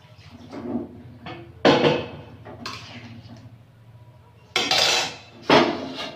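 A metal cooking pot lid clanks and scrapes against the pot while a mustard-paste fish dish cooks, several sharp loud knocks and rattles in a kitchen, with no talking.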